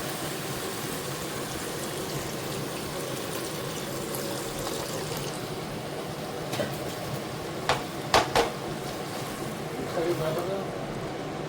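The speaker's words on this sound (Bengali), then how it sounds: "এবারে ঝোলটা দিয়ে দিতে হবে" Broth pours into a pan of cabbage and catla fish curry with a steady rushing, splashing flow, a few sharper clinks near the end, while someone talks over it.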